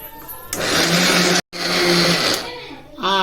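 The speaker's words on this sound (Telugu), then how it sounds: "దీన్ని మిక్సీ పట్టుకుందామండి." A mixer grinder loudly whirs as it coarsely grinds garlic with chilli powder, a steady roar that cuts out for a moment, starts again, then winds down as a voice speaks.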